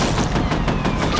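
A grenade goes off in the video game F.E.A.R.: a loud, dense, rumbling blast that fills the whole short moment with no gap or pause.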